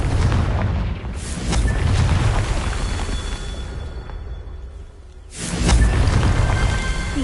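A Confringo fire-blast spell in Hogwarts Legacy goes off as a deep, rumbling blast, then a second booming explosion follows about five seconds in, with no talking.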